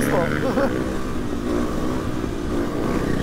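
A KTM 500 EXC-F motorcycle engine revs and drones while being ridden, a steady close engine note with people talking over it.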